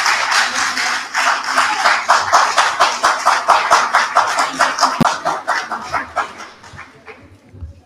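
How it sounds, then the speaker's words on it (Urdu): An audience at a political gathering breaks into rhythmic, evenly spaced clapping that builds to a loud, steady beat, then thins and fades away toward the end. "پھر اس پہ تو تالیاں ہونی چاہیے"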